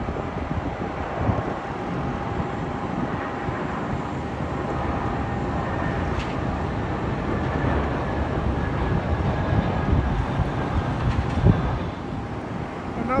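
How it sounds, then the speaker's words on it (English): A British Airways Airbus A319 airliner arrives at London Heathrow from Edinburgh, a steady broadband engine roar and rushing noise that swells slightly and holds for about 13 seconds, with no talking. "Another A319. British Airways again, of course, and that is coming in from Edinburgh."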